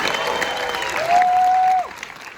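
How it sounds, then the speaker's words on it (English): A theater crowd at a BeyondFest horror triple-feature screening claps and cheers, steady applause with a loud sustained whoop cutting through near the middle before fading back into clapping. "Round of applause for Boo Crew"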